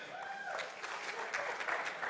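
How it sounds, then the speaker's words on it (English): An audience at a sales motivation keynote claps in a steady, moderate patter that runs throughout, with a faint voice at the start. "Clap if you think we're in a conference."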